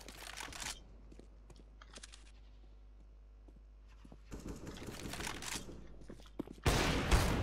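Shotgun blasts in the video game CS:GO, a few sharp bursts separated by quieter stretches of faint game noise, with a heavier volley of shots near the end.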